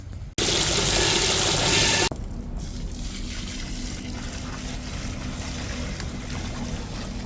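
Tap water gushing loudly in a flooded church drain area, an intense rush that cuts off after about two seconds, leaving a steady lower flow of running water, close by.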